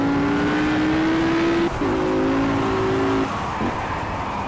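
An Audi R8 racing in Project Cars GOTY on PS4, its engine holding a loud, steady high whine that drops sharply twice as it shifts gears, then climbs again.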